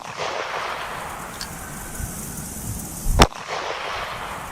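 A single sharp .38 Special pistol shot fired into a 1-inch thick polyurea slab cracks out near the end against steady outdoor background noise.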